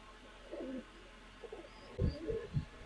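Soft, low coos from Pakistani high-flyer pigeons come in a few short bursts, faint and nearby against a quiet background.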